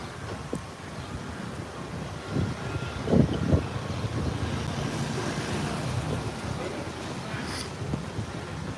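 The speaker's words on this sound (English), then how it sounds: "Like, it's really windy." Steady wind buffets the microphone with a constant low rumble, fairly loud throughout, with a few faint bumps and no clear voices.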